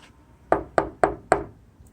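Four sharp knocks on a bare, unprotected car hood with no sound dampening, evenly spaced and ringing briefly, each one close and loud in a quiet space.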